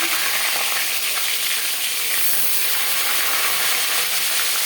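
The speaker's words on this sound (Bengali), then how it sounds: "পাঁচ চামচ সর্ষার তেল গরম করে নিয়েছি এবার দিয়ে দেব ম্যারিনেট করে রাখা মাছ" Marinated hilsa fish, head first, dropped into hot mustard oil, a loud dense continuous sizzle and hiss close by with no voices.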